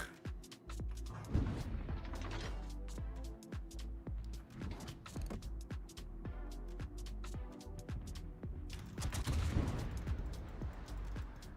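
Rapid, repeated booming salvos of ship gunfire from a naval video game, with sharp cracks in irregular bursts and heavier clusters near the start and end, loud and close.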